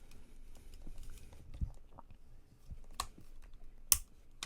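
An action figure's joints, a Marvel Legends Gamerverse Venom from Spider-Man 2, give small sharp clicks and creaks, scattered and close, as its torso and head are moved, with no talk.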